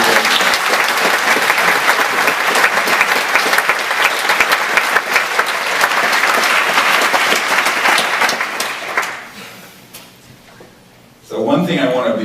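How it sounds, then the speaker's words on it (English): A large audience at a live disclosure presentation bursts into loud, sustained applause for about nine seconds, then it fades to a quiet lull before a voice starts speaking near the end. "So a big round of applause for all you guys"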